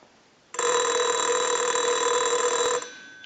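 After a brief quiet moment, a Microtel 202 telephone's bell, rung from a test analyzer, rings loudly and continuously for over two seconds, then cuts off.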